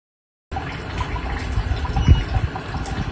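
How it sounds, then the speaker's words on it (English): Water pump running in a smart drainage pipe monitoring setup, pushing water through the drainage pipe as a steady low gushing flow that starts after a brief silence, close and continuous with a brief louder surge. "So as we turn on the water pump again"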